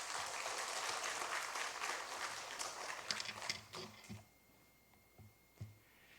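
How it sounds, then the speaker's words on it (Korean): Church congregation applauding to welcome a visiting pastor at a special evening service, dense broadband clapping for about four seconds that then thins out into a few scattered claps and soft room noise. "우리 큰 박수로 환영하겠습니다."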